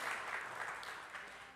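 A crowd claps steadily in a dense, moderate burst of applause with no talking over it.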